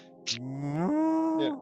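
A person imitates a loud cow moo, a long rising and sliding lowing call sustained for over a second, with a breathy onset; close and alone without other talk.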